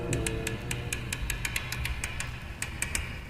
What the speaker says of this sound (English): the clicking noises you hear are the tumblers of a lock